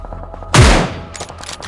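A single sharp, loud gunshot blast in the video game PUBG Mobile bursts out and decays over a fraction of a second, with faint crackle continuing afterward.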